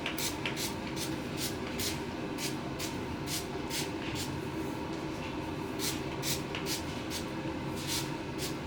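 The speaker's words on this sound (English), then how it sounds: "So I'm just going to be spraying that" A spray bottle mists water generously onto hair on wash day, giving a string of short, sharp hissing bursts at a steady rhythm, close and fairly quiet over low background noise.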